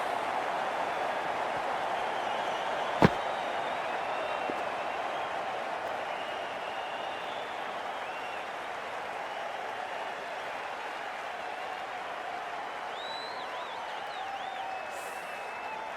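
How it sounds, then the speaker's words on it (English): Broad, steady crowd roar fills a stadium in the Cricket 24 video game during an RCB vs KKR IPL match, a sustained wash of cheering and applause with one sharp click early on and no commentary over it. "The crowd is electric right now."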